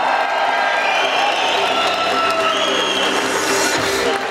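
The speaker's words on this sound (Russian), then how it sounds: "аплодировать громче и громче" Audience at a fan meeting with UFC fighter Valentina Shevchenko in Bishkek applauds and cheers, with a steady dense wash of clapping and crowd noise that holds loud throughout.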